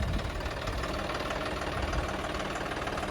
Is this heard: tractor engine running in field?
yes